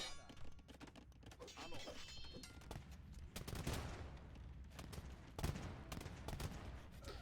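Hand cannons firing in an Age of Empires match: bursts of overlapping gunfire booms and thunks in an irregular volley, with a commentator talking over the battle.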